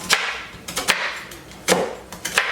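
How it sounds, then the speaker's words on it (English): A knife chops full-size Butterfinger candy bars on a board, producing several sharp, close thwacks and crunches in an irregular rhythm. "I'm just gonna cut these up a little finer"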